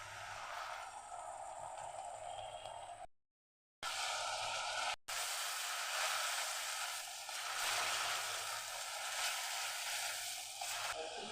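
Bhola fish in mustard curry cooking in a pan after a splash of water is added, giving a steady broadband hiss and sizzle that runs throughout with two brief dropouts, no voice present.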